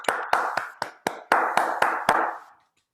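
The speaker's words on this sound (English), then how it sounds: "we can give Margaret a round of applause." About ten sharp, separate hand claps ring out in an uneven rhythm, as if one person applauds a presenter over an online call, each clap loud and close with a short decay before the sound stops.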